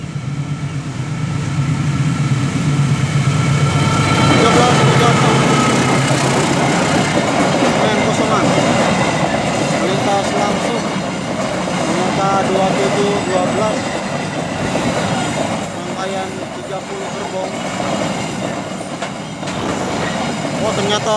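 A coal freight train hauled by a CC 206 locomotive passes close by, its wagons rumbling and clattering continuously with some wheel squeal; the sound stays loud and steady throughout.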